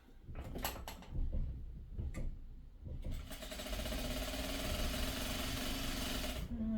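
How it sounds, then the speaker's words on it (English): A sewing machine stitches pre-cut quilt fabric pieces together. A few handling clicks and knocks come first, then the machine runs at a steady, even whir for about three and a half seconds before stopping. "I'm going to sew it"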